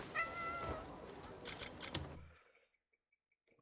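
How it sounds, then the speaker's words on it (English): Cats meowing in the Crimson Desert video game, a few close mewing calls over the first two seconds followed by short clicking sounds, then near silence with faint ticks. "all the cats that just ran away aren't going to get the good stuff"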